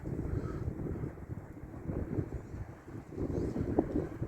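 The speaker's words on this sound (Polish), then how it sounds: "Ale zimny wiatr jest Prosto z Gdańska idzie wiatr." Steady wind buffets the microphone outdoors, a continuous low rumbling rush that swells and eases slightly, with no voices.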